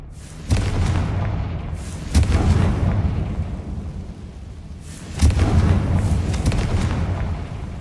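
A Confringo fire spell explodes in the video game Hogwarts Legacy. It produces three loud, deep booms, each followed by a rolling rumble that lingers between blasts.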